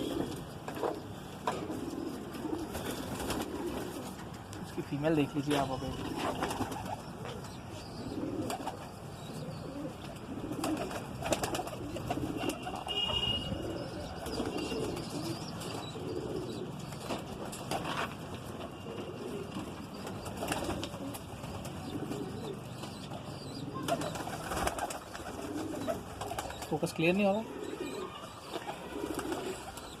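Madrasi pigeons, including a rare Shahpari female, coo softly and steadily in a loft in Aurangabad, with someone talking close over them.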